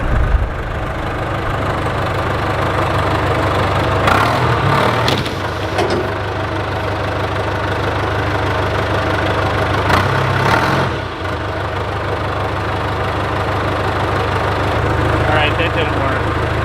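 A forklift engine idles and revs steadily nearby as the forks shove under and lift a hot tub, with knocks and a couple of creaking bumps over the constant drone.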